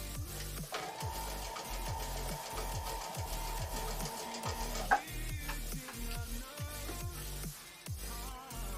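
A sewing machine stitches fabric chimney pieces for a quilt, running in a fast, even mechanical rhythm with a brief pause and restart partway through.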